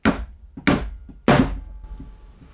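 A wooden dowel is hammered into a draw bore mortise joint: three sharp, close thunking mallet strikes about half a second apart, each blow ringing slightly duller and tighter, followed by faint room noise.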